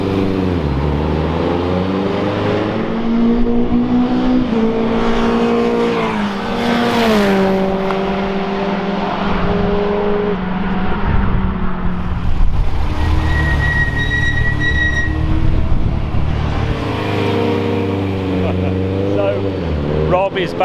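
A Lancia Delta race car laps the track at Donington, its engine revving hard through gear changes with rising and falling pitch, loud and close from onboard, while a person talks over it at times.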